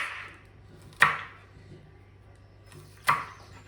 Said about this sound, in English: you start cutting your spring onion into small pieces like this